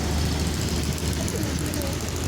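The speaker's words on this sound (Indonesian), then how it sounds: "Ada konvoy bus lagi nih dari arah Sumatera Barat." Buses in a convoy from West Sumatra roll past on a road, a loud, steady engine roar and rushing noise filling the short stretch, close to the listener, with voices talking over it.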